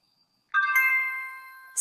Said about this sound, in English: Suddenly the doorbell is ringing loudly